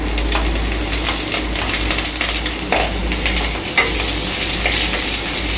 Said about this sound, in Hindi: जीरा हमारा हो चुका है। अब इसमें मैं हरी मिर्ची डाल देती हूँ।